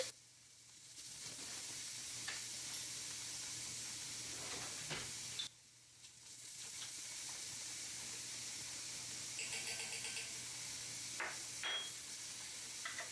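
Spoonful of minced garlic sizzling in a pan with onions, a steady close hiss broken by a sharp dip and a few brief clinks of stirring.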